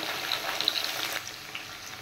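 Boiled potato and shola kochu (taro) pieces frying in a pan with salt and turmeric, giving a steady close sizzle that fades slightly after the first second.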